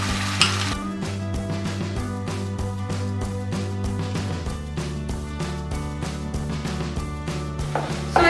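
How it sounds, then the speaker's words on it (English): Tomato puree sautéing in a pan for a vegan soya bean curry, a steady close sizzle with rhythmic stirring scrapes running the whole time, all under continuous music-like tones and no talk. "So after sauteing it around, I'm just going to add the tomato puree."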